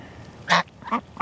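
Farm ducks and geese calling nearby, three short, loud nasal quacks and honks in quick succession over a low background murmur.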